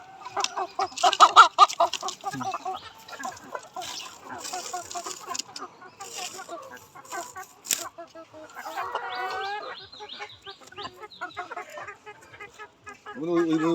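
Laying hens at an egg farm cluck and call in a steady chorus over the whole stretch, busiest near the start, while a person talks over them.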